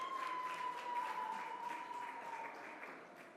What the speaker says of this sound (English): But clap yourselves